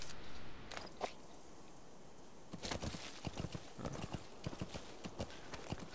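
Horse hooves pound in a quick galloping clatter in Metal Gear Solid 5, close and loud after a brief snort near the start, with a rustling outdoor backdrop.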